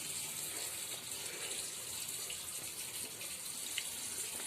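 Water running steadily from an open tap through a Titán water heater, a continuous even hiss and gush close by with no pauses.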